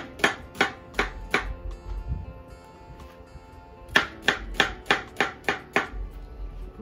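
An onion chopped into small pieces with a knife on a board, two quick runs of sharp, evenly spaced cuts with a pause between, close and clear.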